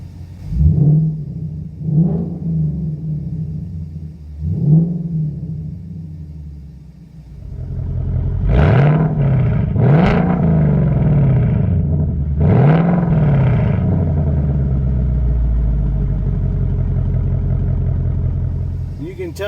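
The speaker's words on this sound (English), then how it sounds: "This will be sport exhaust mode." A 2019 Mustang GT with an H-pipe exhaust in sport exhaust mode revs repeatedly, sharp deep bursts rising and falling close by, first three lighter blips then heavier sustained revving with a steady rumble underneath.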